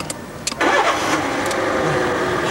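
A car engine cranks and catches after a breakdown in a French TV advert: a few faint clicks, then the engine fires up loudly and settles into a steady idle close by.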